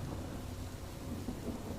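A low, continuous rumble of thunder rolls through a heavy night rainstorm, with steady rain noise throughout and no distinct crack.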